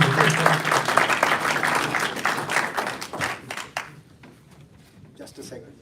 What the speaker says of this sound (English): we want to have another round of applause to honor you